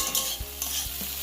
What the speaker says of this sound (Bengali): আলু ফুলকপি ভাজা